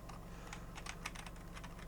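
Quiet, rapid typing on a computer keyboard, with irregular clusters of key clicks over a low steady hum from a nearby computer.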